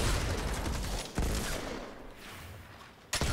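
Gunfire in Fortnite: Save the World, a dense rattling volley that fades into a quieter stretch, then a sharp loud burst returns at the end.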